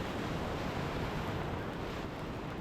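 River rapids rush past a rowing boat on the Wind River at 7.3 feet, a steady, loud wash of broadband water noise with no breaks or voices.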